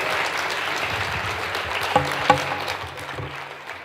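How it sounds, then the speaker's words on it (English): A church conference crowd gives a steady round of applause for a pastor, a dense wash of many hands clapping with a couple of sharper knocks near the end before it fades. "A round of applause again for Pastor Bright."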